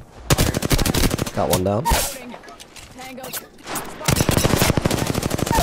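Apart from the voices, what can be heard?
gunfire in the video game Apex Legends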